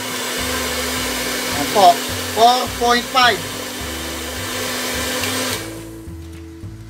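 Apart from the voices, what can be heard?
hair dryer running on low heat from DIY inverter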